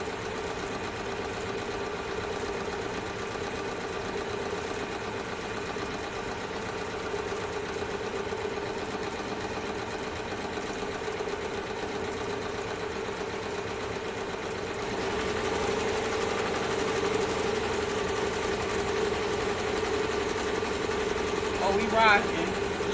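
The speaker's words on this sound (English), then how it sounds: "I'm just going around the entire perimeter, and what it's gonna do is basically serging the perimeter for me." A serger stitches steadily around the perimeter of bonnet fabric, its fast mechanical hum continuous throughout and growing slightly louder near the end, with speech heard over it.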